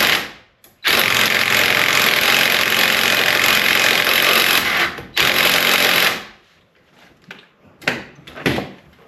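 Impact wrench on 21 mm suspension lower link bolts of a Toyota Supra during knuckle bushing work: a loud, close, steady hammering burst of about five seconds, a short second burst, then a few brief rattling taps.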